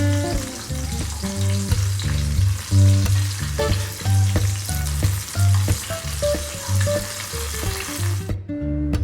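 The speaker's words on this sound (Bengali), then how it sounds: "মাছগুলো বেশ সুন্দর ভাজা হয়ে গেছে।" Rohu fish frying in a pan: a steady, close, hissing sizzle runs through the whole clip beneath prominent background music, then cuts off at the very end.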